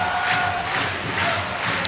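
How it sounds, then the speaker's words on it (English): A crowd at an ice hockey cup semi-final between Sheffield Steelers and Coventry Blaze rises and cheers, a loud sustained roar filling the arena, with a commentator's voice faintly under it. "Crowd rises to its feet."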